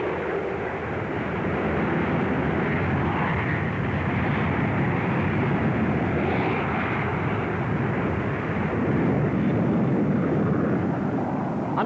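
A Handley Page 115 delta-wing research aircraft flies at the 1962 Farnborough air show, a continuous broad jet roar that stays loud and steady throughout.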